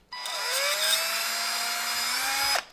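Power drill boring out a 1.6 mm screw thread in soft material for an HP M.2 mounting screw fix, a close, steady whine rising slightly in pitch for about two and a half seconds, then stopping.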